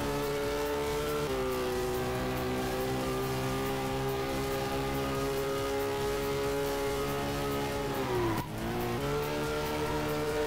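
Motorcycle engine racing in the MotoGP URT 3 video game, a loud, steady high-revving whine held throughout with brief pitch drops at gear shifts and a sharp dip near the end.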